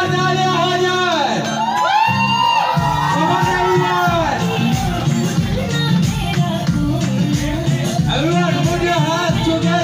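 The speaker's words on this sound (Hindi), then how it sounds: "एक बार जोरदार तालियां हो जाए।" At a ladies' sangeet and ring ceremony in Kushinagar, a crowd cheers and shouts loudly for about ten seconds, with excited voices and whoops layered over steady noise.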